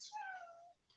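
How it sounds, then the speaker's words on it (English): A single cat meows once, a clear close falling call lasting under a second, with no other sound around it. "My kitty, kitty."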